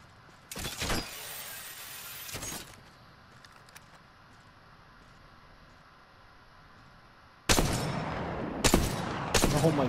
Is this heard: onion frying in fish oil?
no